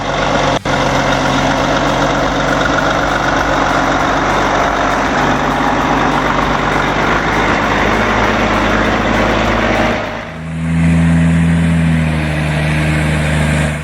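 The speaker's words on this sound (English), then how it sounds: "This logging truck is leaving the mining site, but it looks like it's having a bit of trouble climbing the slope." A heavy logging truck's engine labors loud and close in a continuous low roar as it climbs a rough slope from a mining site, then shifts to a different, steadier drone near the end.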